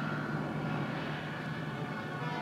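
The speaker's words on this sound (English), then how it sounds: "the Army's new Caribou planes swoop into a field that would try a jeep" Army Caribou transport planes landing in a rough field, a steady droning propeller-engine roar filling the whole stretch with a constant low hum.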